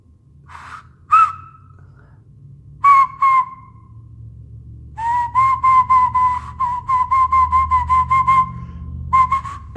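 A loud fingerless mouth whistle, made with no fingers in the mouth, sounds as a few short chirps and then a long run of rapid repeated tones with a steady pitch. It is heard alone, with a low hum underneath.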